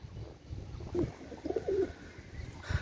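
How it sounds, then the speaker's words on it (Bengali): A few soft, low coos from a Salara teddy hen pigeon close by over a quiet background, brief and spaced out. "এটা হচ্ছে সালারাটেডি মাদি একদম দশ পর ক্লিয়ার কবুতর"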